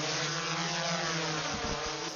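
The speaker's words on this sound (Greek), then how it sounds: "Τουλάχιστον 23 ντρόουνς όπως αυτό εδώ πετάνε καθ' όλη τη διάρκεια του 24ωρου πάνω από τον Αττικό ουρανό" A firefighting surveillance drone flies overhead above Attica, a steady buzzing propeller drone that fills the short stretch with no voices.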